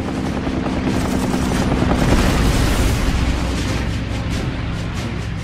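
A bomber shot down by a P-40 fighter's burst of fire explodes in a World War II air battle over China, a dense, loud, sustained roar of blast and engine noise filling the whole stretch with no break.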